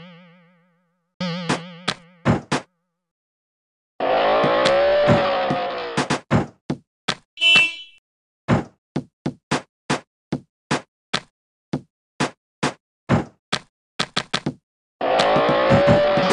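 A cartoon car from the Peppa Pig Theme Park game putters along in bursts, with springy boing effects and a rapid train of short knocking clicks between engine runs, clean and close with no talk.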